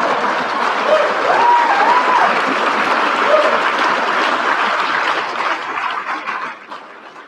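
Audience applause fills a banquet hall at an awards dinner, a dense steady wash of many hands clapping with faint voices mixed in, fading out near the end.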